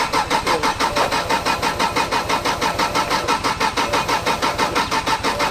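A drift car's engine cranks and tries to start at Sandia Speedway, New Mexico, while its fuel pump cycles on and off, producing a loud, fast, even pulsing chug that runs throughout.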